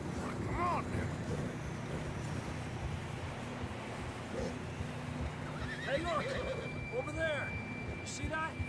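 In Red Dead Redemption 2, a horse whinnies in several rising, wavering calls while hooves clop beneath, with wind noise and a low rumble throughout and voices talking over parts of it.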